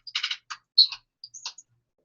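Several quick bursts of computer keyboard typing, close and clear, in clusters of clicks separated by short pauses, with no talking.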